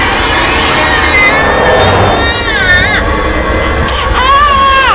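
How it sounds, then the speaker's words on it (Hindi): A baby girl cries loudly and close, with wavering wails that break off and resume, over a busy room with other voices talking underneath. "अरे बच्ची रो रही है"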